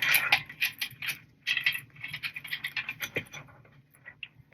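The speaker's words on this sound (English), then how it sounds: "I might do another row of stitching." A sewing machine stitches a small fabric mini wallet with quick, rhythmic mechanical clatter in short bursts. The needle action sounds close and moderately quiet.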